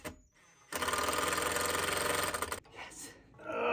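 Cordless drill driving screws while mounting a whole house fan, a steady loud whirring burst of about two seconds, close up, followed by quieter shuffling and faint voice sounds.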